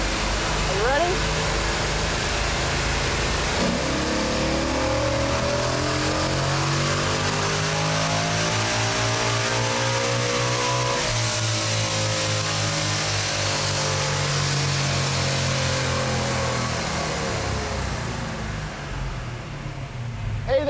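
A sleeper Ford Granada roars on a chassis dyno, climbing through the gears to a sustained high-RPM scream before easing off, loud and close throughout.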